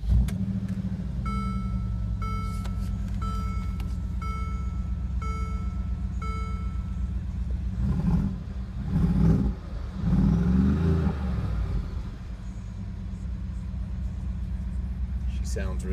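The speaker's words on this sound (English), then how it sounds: "I'm gonna turn her on for you so you can hear her growl." A Mercedes G63 AMG engine cranks and fires up, then idles with a deep rumble and surges through a couple of throaty revs before settling back.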